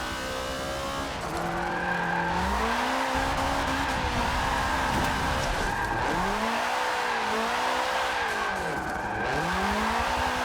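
A loud 400-horsepower car engine on a track, revving and dropping as the car slides, with tire squeal and skidding in close, continuous passes and no talking.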